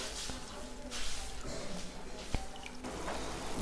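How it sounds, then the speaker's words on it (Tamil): Tiffin sambar simmering in a pot gives off soft bubbling and occasional liquid pops, faint and close, against a low kitchen background. "அது எல்லாத்தையுமே சேர்த்துட்டு இதை நல்லா கொதிக்க விட போகிறோம்"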